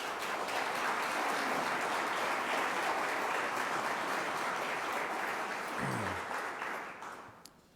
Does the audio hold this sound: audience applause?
yes